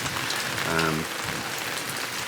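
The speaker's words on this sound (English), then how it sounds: "The sky came really dark and within 10 minutes, boom, the downpour hit us." Steady broadband hiss of a heavy storm downpour pouring down on a campervan in Châlons-en-Champagne, France, with a brief tonal voice-like sound partway through.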